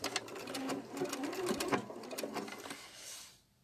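A sewing machine stitches an applique with variegated purple thread, making a rapid steady mechanical chatter close up that runs continuously and then stops near the end.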